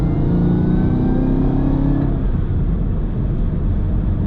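Chevrolet Camaro ZL1 1LE engine with its stock supercharger, driven at half throttle with the windows up, heard from inside the car as a loud, steady rumble with a rising whine that eases off partway through.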